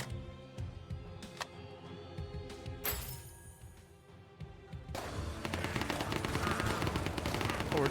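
Bursts of video game gunfire in a NoPixel GTA roleplay session, loud rapid automatic shots that grow into a dense, continuous barrage over the second half.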